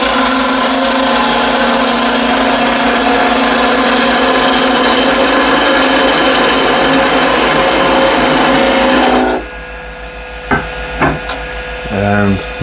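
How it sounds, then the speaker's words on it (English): A 3/4 inch skew chisel cutting wood spinning on a lathe: a loud, continuous scraping hiss with a steady motor hum, then it stops and a few sharp knocks and taps follow. "I'll use 3/4 inch skew."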